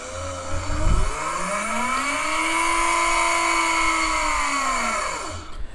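A high-speed Bedini pulse window motor spins up with a rising whine that holds steady and then fades as it winds down, with a brief thump near the start.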